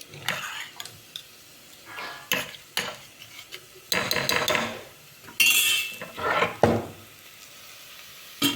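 Cooked dal (lentils) goes into a pan and is stirred, giving a series of close, irregular scrapes and spoon clatters against the metal with a faint sizzle underneath.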